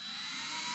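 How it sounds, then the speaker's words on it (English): A small Dremel rotary tool whines at a steady high pitch, reaming and deburring the inside of a cut brake line on a 1985 BMW 633 CSi, brief and even. "it's a little Dremel tool that's kind of a rough edge on that, so I'll just use it to ream out the inside of that"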